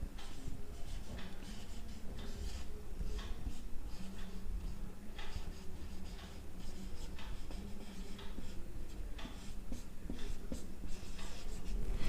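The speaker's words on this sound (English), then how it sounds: "Let me write here." Chalk or a marker scratches across a classroom board in quick, repeated strokes, close and clear, with no talk during the writing.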